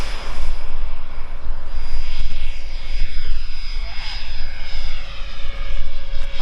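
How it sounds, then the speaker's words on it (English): Twin 80mm electric ducted fan motors on a Freewing A-10 Thunderbolt II RC jet give a loud, steady whooshing whine throughout, swelling and fading slightly as the model flies past. "Those motors sure sound good."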